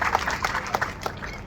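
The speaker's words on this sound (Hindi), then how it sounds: "वाह, ताली बजाकर स्वागत करें जरा।" An audience claps at the opening of a BJP party office, brief uneven bursts of hand claps in quick succession, close and moderately loud.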